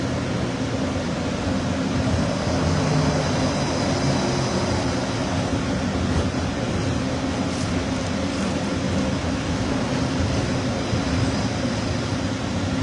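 Inside a Disneyland monorail train pulling into Downtown Disney Station, a steady, dense rumble of wheels and motors with an airy hum fills the cabin at even loudness.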